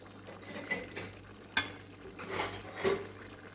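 Cauliflower curry stirred in a pan after kasuri methi and ghee go in, with soft scraping and a few utensil clinks against the metal, moderately quiet and close, no talking.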